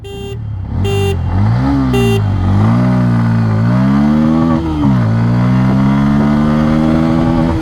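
A loud engine revs up repeatedly, pitch climbing and dropping as it accelerates through gears, with a few short horn toots at the start.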